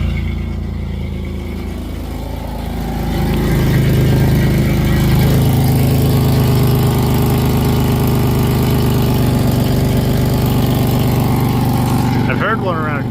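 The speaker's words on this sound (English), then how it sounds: "I hear exhaust leak." A car engine with an exhaust leak idles steadily up close with a rough, low rumble and a faint ticking chuff; a voice speaks briefly.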